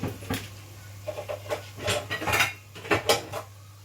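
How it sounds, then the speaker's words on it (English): Metal pot lids clatter and clink against a cooking pot in a series of sharp, close knocks and scrapes, irregular and fairly loud, over a low steady hum with no talking. "Just put the lid on for about a minute"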